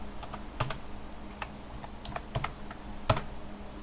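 Fast, light keystrokes on a computer keyboard entering a password at a Linux prompt, a short burst of close clicks with a couple of sharper key hits, no talking.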